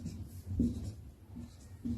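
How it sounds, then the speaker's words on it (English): Soft, faint scratching of a matrix being written out by hand during a maths lesson: a few short pen strokes separated by quiet pauses, with no one talking. "Again write down A matrix."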